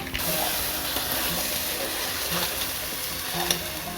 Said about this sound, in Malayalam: ഈ നെയ്യിൽ തന്നെ ഒന്ന് വറുത്തെടുക്കാം